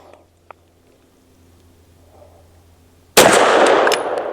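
A Tisas PX-9 Duty Comp pistol fires MagTech 95 grain jacketed soft points: after a quiet stretch with a faint click, a single sharp, loud, close gunshot bursts out and rings briefly.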